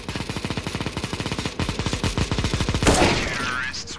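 Rapid gunfire from Counter-Strike, a long run of evenly spaced automatic shots loud and close, ending in a heavier burst with a rushing, noisy tail.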